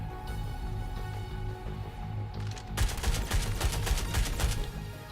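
Automatic weapon fire in a shooter video game, heard as a dense, steady run of rapid shots that grows louder and more forceful partway through, over a continuous game background with no talking.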